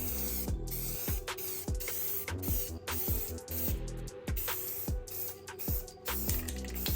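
Krylon satin khaki spray paint hisses from the can in short bursts as a light coat goes onto a rifle. The bursts are close and repeated, and the can's mixing ball rattles and clicks between them.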